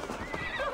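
A horse neighs and whinnies in Assassin's Creed Valhalla, a short, close, clear call with a faint clip-clop of hooves under it and no voices.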